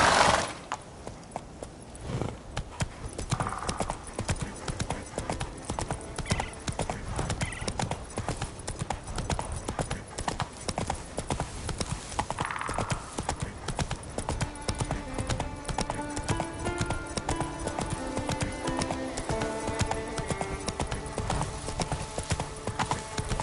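Roach, Geralt's horse in The Witcher 3, gallops with steady, rapid clip-clop hoofbeats throughout, a brief whinny early on, and game music rising beneath the hooves in the later half.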